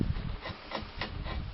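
Long four-foot chisel paring and cleaning up around a knot on a wooden cider press post, a few soft scraping strokes close by, fairly quiet and alone.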